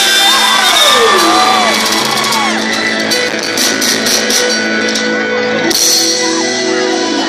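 A large concert crowd shouts and cheers at a live show, a loud, dense roar of many voices sustained throughout with whoops rising above it.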